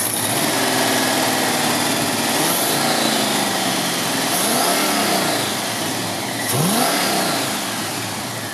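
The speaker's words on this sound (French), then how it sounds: "On va accélérer un petit peu." Engine of a 1969 Mercury Cougar with its original two-barrel carburetor, revving up from a smooth idle in several rising and falling pulls, loud and close with no talk.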